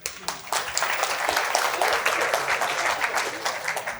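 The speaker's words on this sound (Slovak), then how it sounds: "Potlesk, prosím." An audience applauding after a group exercise at a talk: a few quick claps that swell into steady, full clapping lasting several seconds.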